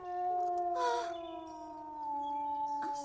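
A wolf howls in a cartoon, a long sustained tonal wail with a steady pitch that swells in the middle and trails off, clear and fairly close with no talk over it.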